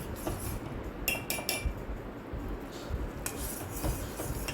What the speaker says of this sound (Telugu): మధ్య మధ్యలో మాత్రం కలుపుతూ ఉండండి ఆ బెల్లం కరిగేంత వరకు